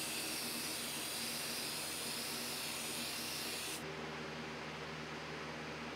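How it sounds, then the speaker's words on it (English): A steady hiss of an aerosol can spraying clear satin finish runs close by for about four seconds, then stops, leaving a low background hum. "I think I'm gonna take some clear finish and just spray it with some satin."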